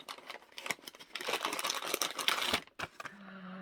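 Taped package being opened by hand, with dense crinkling and sharp tearing of packing tape in quick irregular bursts, fairly close and loud, then a brief pause and a low steady hum.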